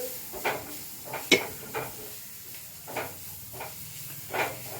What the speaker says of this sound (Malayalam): കുരുമുളകൊക്കെ ചേർത്ത് ഫ്രൈ ചെയ്തെടുക്കാം